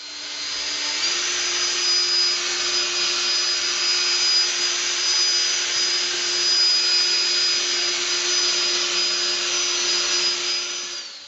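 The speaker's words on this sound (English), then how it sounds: "I'm going to go ahead and spread it on the low speed setting with the drill" A drill-driven Meguiar's DA power polisher spreads compound on a car panel, droning steadily at low speed, a constant whine with a slight pitch step near the start, close and loud throughout.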